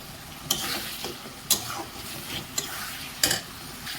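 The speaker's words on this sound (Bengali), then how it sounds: "দেখুন আমার মশলাটা কষানো প্রায় হয়েই গেছে" Spices being fried and stirred in a pan for khichuri, a low continuous sizzle broken by four distinct metallic clinks of the spoon against the pan, close by, with no talking.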